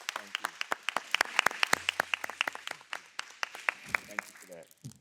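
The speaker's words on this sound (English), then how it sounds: "I want to give a round of applause." An audience applauds at a community gathering in a faith community's facility, a burst of many sharp, scattered claps that thins out toward the end, with a few faint low voices mixed in.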